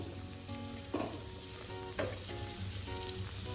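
Khichdo mixture being stirred in a pan, a close sizzle with scraping strokes of a spoon, two louder scrapes standing out, continuous and without talk.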